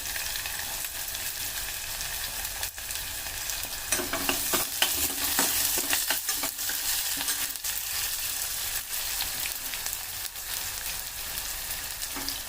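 Onion frying with cumin and mustard seeds, a steady sizzle close up, with a spoon scraping and stirring the pan in irregular clicks.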